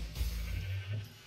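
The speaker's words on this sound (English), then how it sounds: "we got a cow in the jar" Cow in a jar mooing in Minecraft's Modern Skyblock 3 modpack, a single short, fairly faint low moo heard on its own, without talk.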